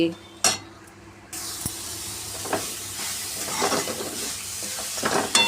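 Dried sour sorrel leaves stirred into a hot sizzling tempering of Kashmiri red chilli in a pan, with a steady hiss, scraping spoon strokes and a few metallic clinks, close and clear.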